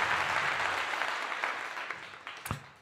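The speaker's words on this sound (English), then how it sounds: "Round of applause for that." An audience applauds in a dense, steady wash of clapping that slowly tapers off, with one sharp louder clap near the end.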